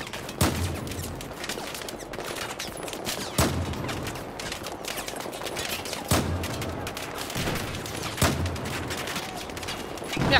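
Battlefield 4 gunfire in a prison-break fight, a dense stream of rapid automatic shots punctuated by a few louder, sharper bangs at intervals, with no speech over it.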